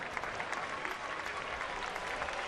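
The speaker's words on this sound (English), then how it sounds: "And the rhythmic clapping begins for the Yankee fans, anticipating the end of the game." Yankee fans in a large stadium crowd at a baseball game against Houston applaud steadily and loudly, a dense continuous wash of clapping with a faint rhythmic pulse and no clear voices.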